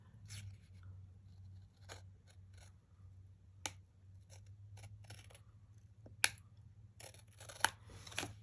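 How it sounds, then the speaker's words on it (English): Scissors trim the edge of a cardstock card, producing soft, close snips and crisp cutting clicks in irregular bursts, a few louder sharp snaps standing out over quiet room hum. "I'm going to take my scissors and just trim this edge."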